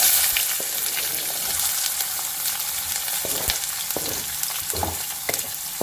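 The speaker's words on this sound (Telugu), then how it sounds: "అండ్ ఇందులో వచ్చేసి ఇప్పుడు ఆనియన్స్ చిన్న చిన్నగా కట్ చేసుకున్నవి వేద్దాం." Small chopped onions and cumin seeds fry in hot oil with a steady, close sizzle and a crackle of spitting pops, plus occasional clicks of a spoon stirring the pan.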